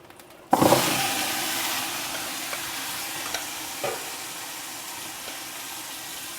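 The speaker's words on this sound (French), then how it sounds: "je rajoute un peu d'huile et j'ajoute la suite des légumes" Leeks and other vegetables drop into hot oil in a pan for couscous, bursting into a loud sizzle that settles into a steady frying hiss with a few scattered stirring clinks.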